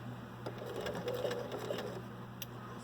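Domestic sewing machine back stitching a 5/8 inch shoulder seam in fabric, a steady close motor whir with rapid needle ticking running for a few seconds without talk.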